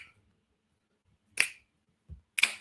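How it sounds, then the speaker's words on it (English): Two crisp finger snaps sound close and clear, about a second apart, with a soft low thump between them in an otherwise quiet room and no talking. "I snap my fingers."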